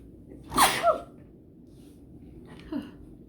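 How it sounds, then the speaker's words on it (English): A person sneezes once, sharp and close, followed by a softer breathy sniff a couple of seconds later in an otherwise quiet room. "I've sneezed a lot in this video."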